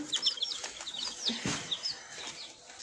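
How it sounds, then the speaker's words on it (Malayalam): Chickens clucking softly nearby in a series of short, uneven calls over faint outdoor background noise. "4 കോഴിയാണ്. യെസ് അതാ നല്ല കോഴി."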